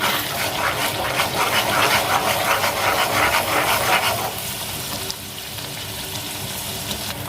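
Spiced masala frying in a pan, with tomato paste going in, gives a dense, steady sizzle that runs loud for about four seconds, then drops to a slightly quieter, continuing crackle; no talking.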